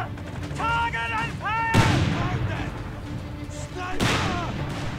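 Gunfire and artillery from the video game Company of Heroes 3, with two heavy booming blasts and scattered shots over a rumbling battlefield while voiced unit lines are heard.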